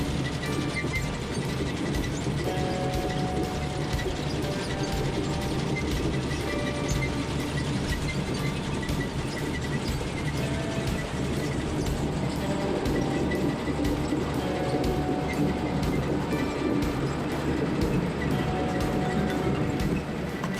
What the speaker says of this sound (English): Seed potatoes are put into potato planters that will space each potato piece into each cup